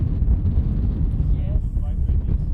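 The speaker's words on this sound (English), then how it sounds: "Yeah, it's super windy out here." Strong wind buffets the microphone at a rocket launch site in a continuous low roaring rumble, loud and gusty outdoors, with a voice faintly underneath.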